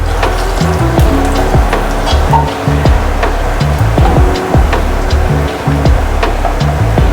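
Garlic fries in a pan for masoor dal and is stirred now and then, making a loud, dense, continuous sizzle with a rough low rumble and scattered crackles.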